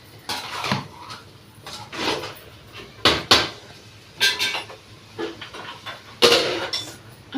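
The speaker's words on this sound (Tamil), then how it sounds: "நல்லா இப்படி மிக்ஸ் பண்ணிக்கணும்" Food being mixed in a cooking pot, with sharp irregular clanks and scrapes of a utensil against metal, loud and close, arriving in bursts separated by brief quieter gaps.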